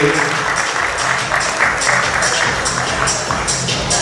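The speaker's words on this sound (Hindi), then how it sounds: "ऐसे मौके पे तालियां बजती है।" Steady, dense clapping from an awards show audience fills the whole stretch, loud and continuous with a faint voice or two underneath.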